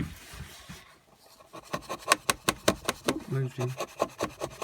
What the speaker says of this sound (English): put the coping saw down the tenon saw cut, and then just slowly turn it at the bottom